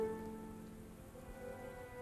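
Steady rain falls in a historical TV drama scene, a soft, even hiss of drops that runs throughout under a faint sustained musical tone, with no voices.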